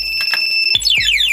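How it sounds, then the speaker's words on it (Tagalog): A DIY motorcycle alarm triggered by a door opening blares with steady electronic tones that shift into rapid descending sweeps, loud and close. "ang gagana na lang is yung alarm sa pinto"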